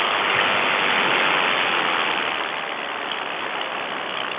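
Paramotor engine running in flight above a cloud layer as a steady, close, buzzing drone mixed with rushing wind. It eases slightly in level midway as the throttle is backed off, and no voices are heard.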